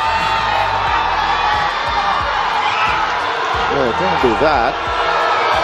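Basketball crowd at an MPBL 2023 playoff game between Zamboanga and Bacoor City reacts with cheers, whoops and shouts, a busy wash of noise under close commentator talk.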